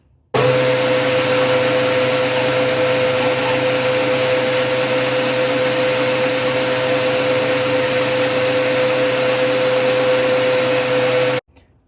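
A lathe with its compound set over cuts a 4.5 degree taper on a DIY long-reach TTS tool holder for a Tormach mill, giving a steady, loud mechanical hum with a constant whine that runs unbroken from start to finish.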